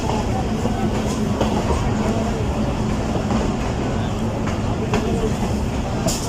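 Ravi Express train rolling along the rails near Shahdara Junction, a steady loud rumble with rhythmic clicks and clatter throughout, no voices standing out.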